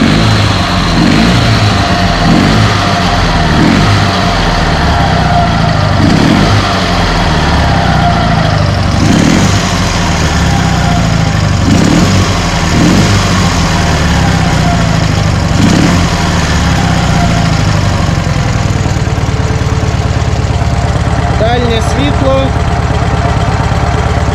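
A Dnepr MT11 motorcycle engine with PZ30 carburetors runs loudly and close, idling with a rough chug and repeatedly revving up in short bursts, a voice speaking now and then over it.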